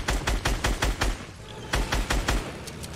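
Rapid gunfire bursts from the Fortnite Battle Royale video game, a dozen or so sharp evenly spaced shots with a brief pause midway, loud and close, with no talking.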